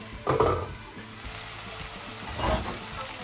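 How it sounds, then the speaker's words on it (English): Onions frying in a pot for a Ghanaian bean stew, a steady close sizzle with a couple of louder stirring bursts near the start and toward the end, no voices. "just about 2 minutes for the onions to caramelize just a little bit or tenderize"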